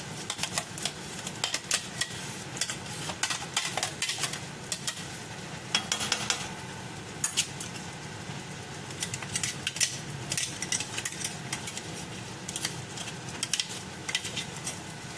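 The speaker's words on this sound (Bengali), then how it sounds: "ঝাল মির্চ দিয়ে ভালো করে আমরা এটাকে নেড়ে নেব" Butter chicken being stirred in a pan after Kashmiri chili goes in, with a continuous sizzle under a steady run of sharp spoon scrapes and clicks against the pan.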